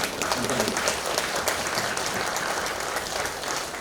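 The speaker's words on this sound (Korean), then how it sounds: "다시 한번 위원장님께서 박수로 맞이해 주셨으면 감사합니다" Audience applause at the opening ceremony of the 2025 Incheon Open Port International Photo Festival welcoming the committee chairman, steady dense clapping from a crowd, close and sustained throughout.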